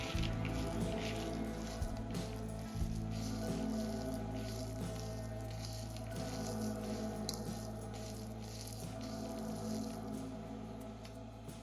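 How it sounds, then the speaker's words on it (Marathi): Potato and mozzarella cheese ball mixture squished and kneaded by hand in a bowl, a steady soft squelching with a low background hum and no talking. "आता हे सर्व साहित्य हाताच्या सहाय्याने मिक्स करून घ्यायचं"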